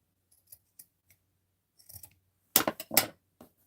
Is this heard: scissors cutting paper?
yes